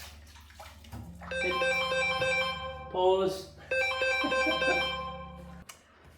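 A phone rings with an incoming-call ringtone in a home kitchen, a bright melodic tone repeating for several seconds over a low steady hum, then cutting off abruptly.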